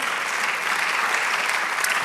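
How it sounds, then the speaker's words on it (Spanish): A church congregation applauds in praise during a Spanish-language service, a dense, steady wash of many hands clapping close and loud for about two seconds with no speech over it. "Denle un aplauso al Señor"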